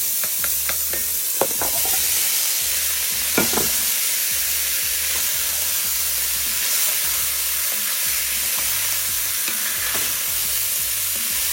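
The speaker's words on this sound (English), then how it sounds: "our pancetta is starting to cook, so we're going to go ahead now and add our andouille sausage" Pancetta and andouille sausage fry in a pan, giving a steady close sizzle broken by a few sharp scraping clicks as a utensil stirs them, with no talking.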